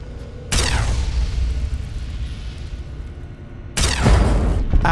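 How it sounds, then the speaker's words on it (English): Turrets in Fallout 3 fire two loud, booming blasts, one near the start and another toward the end, each sharp onset trailing into a rumbling decay over steady low background noise. "This is the turrets."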